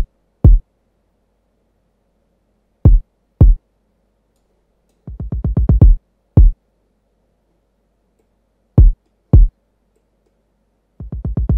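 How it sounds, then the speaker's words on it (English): A kick drum programmed in an FL Studio 21 beat plays alone, with sparse punchy thumps in single hits and quick rising rolls of repeated kicks, separated by silence. "Next, I added a kick and it sounds like this."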